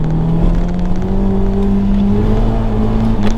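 A Peugeot 106 XSI engine accelerates through a chicane, a loud, steady rising drone heard from inside the car with a climbing whine and no voices.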